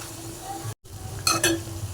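A spoon stirs masala through a cauliflower egg curry in a pot, with a close sizzle under scraping and a couple of quick metallic clinks against the pan's side.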